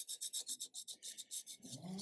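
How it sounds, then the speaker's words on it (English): A standard decorating scraper rasps across a Ford Ka cylinder head gasket surface in quick, rhythmic strokes, about a dozen close scrapes in two seconds, ending in a duller rub. "And just give it a good scrape."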